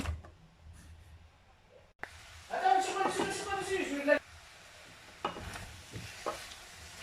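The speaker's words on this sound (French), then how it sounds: "Voilà, ma viande est en train de revenir." Meat browning in a pan for a rice and meat dish, a soft sizzle with stirring scrapes building after a quiet start, then fading to a low crackle with a few clicks.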